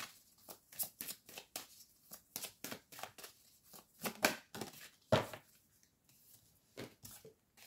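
Tarot cards shuffled by hand close up: a series of soft, quick riffling and slapping bursts with short pauses between them, quiet and alone.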